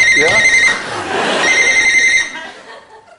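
A shrill electronic telephone ring sounds in two bursts while people laugh and someone speaks briefly over it.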